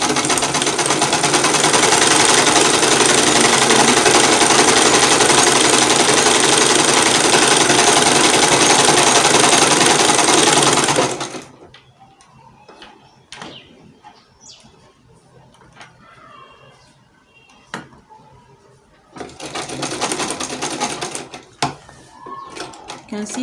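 A sewing machine runs in a long, loud, continuous burst while stitching shirred elastic fabric for a smocked crop top, then stops to quiet handling and speech before starting up again briefly near the end.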